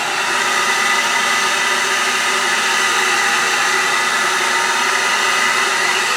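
Hair dryer blowing steadily and loudly while a pompadour is styled with gel and hairspray, a constant broadband whoosh with no pauses throughout.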